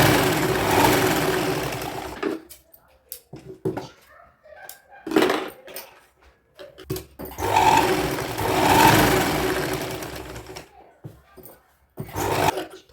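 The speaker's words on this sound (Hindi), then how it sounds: "एक सिलाई हम पहले पूरा स्ट्रेट सीधी सिलाई लगा लेंगे।" A sewing machine runs a straight seam through saree fabric in several bursts, loud and steady for a few seconds at a time, broken by short pauses with faint handling sounds between.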